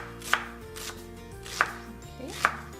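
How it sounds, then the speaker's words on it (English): A knife chops a medium to large onion on a cutting board while chili is being prepared, three separate sharp chops with slower, lighter cutting sounds between them, close and clear, with no talking. "Chop 1 medium to large onion."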